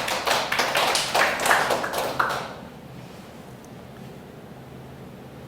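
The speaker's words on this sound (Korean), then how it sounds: "하나님께 영광의 박수를" Church congregation at a Sunday service claps briefly in praise, a burst of rapid clapping that stops after about two seconds, leaving quiet room tone.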